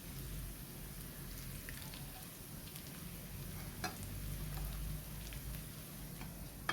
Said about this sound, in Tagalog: Tapos magigisa lang tayo ng bawang at sibuyas.